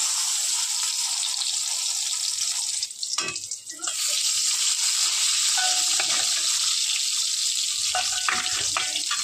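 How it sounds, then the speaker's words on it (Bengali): Eggplant slices fry in hot oil with a loud, steady close sizzle, broken briefly by a burst of louder spattering as pieces are turned or added. "আমি এখানে এই যে বেগুন ভাজছি"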